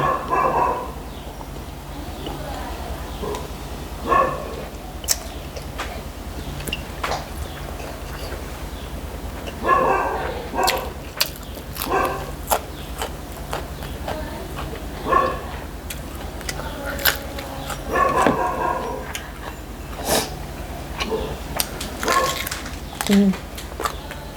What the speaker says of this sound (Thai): เสียงหมามันเห่าคนมาส่งของไม่ใช่หมาบ้านแม่ส้ม